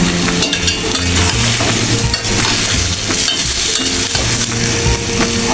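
Bottle gourd tossed into prawn masala in a hot pan, a loud, steady sizzle with frequent stirring scrapes and clatter throughout, no voices.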